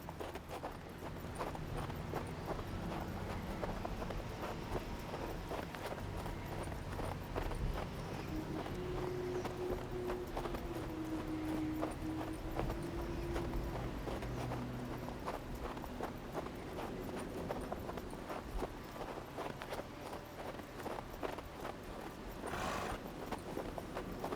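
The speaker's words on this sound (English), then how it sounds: "horse snow ASMR." Video game sound of steady rhythmic clip-clop of horse hooves crunching through snow, continuous and close, with a faint low wind-like background and no talking.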